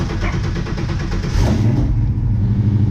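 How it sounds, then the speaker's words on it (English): Coyote V8 in a Foxbody Mustang with a newly installed six-speed transmission fires up and settles into a loud, steady, rumbling idle with a throaty low-end drone, close to the microphone. "here's the first start with the transmission actually installed."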